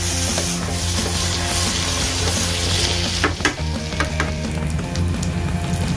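Red beans (lobia) frying in a pan over a high flame, a loud dense sizzle with clattering spoon scrapes and knocks against the pan midway, no talk.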